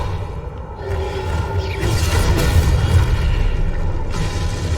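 Spell blasts cast in the game Hogwarts Legacy, a dense rumbling stream of booming bursts and whooshing swishes layered over one another, loud and continuous with no clear gaps.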